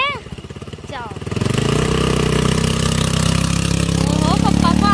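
Motorcycle engine running on Kashid Beach, a steady mid-pitched drone that rises and holds loud after a brief start, with people talking and calling out over it.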